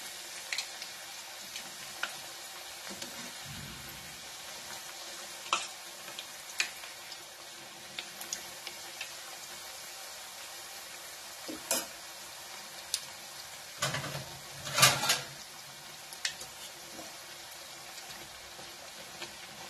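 Spicy spinach puri fry in hot oil over a medium gas flame, with a soft, faint sizzle punctuated by a few brief louder bubbling bursts.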